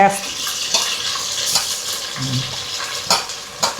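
Tomatoes stirred into a frying Vijayawada-style chicken curry: a steady oily sizzle broken by a few sharp scraping stirs of the spoon against the pan.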